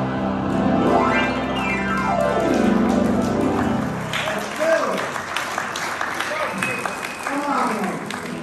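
Concert audience clapping along at a piano performance, a dense steady wash of applause that gives way to looser, scattered claps and crowd noise, with music audible beneath at the start.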